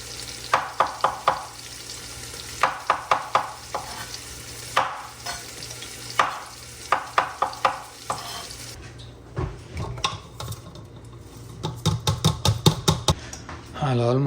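Mustard seeds, cumin and asafoetida tempering in hot oil in a home kitchen, with bursts of popping and sizzling, clinks of a spoon against the pan and a voice talking over parts of it.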